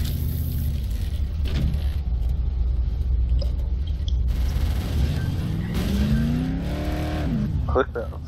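Car engine rumbling and revving in the video game Dead Island, a steady loud drone with rising pitch as it accelerates, heard under people talking.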